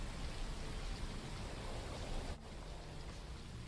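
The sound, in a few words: rainstorm rain falling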